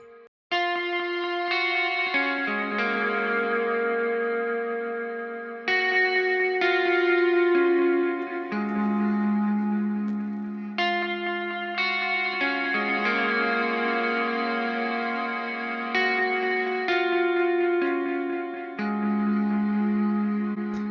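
Guitar chords drenched in reverb set about 80% wet with a six-second tail, sustained and washy, each strum blooming and smearing into the next with dense lingering decay, loud and continuous with no talk.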